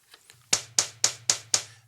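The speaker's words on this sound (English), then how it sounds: "on the kick drum, I was just using attack number 5, which sounds like this" Five sharp, punchy electronic kick hits from a Roland TM-2 trigger module in an even rhythm, each a crisp transient over a low hum, preceded by a couple of faint ticks.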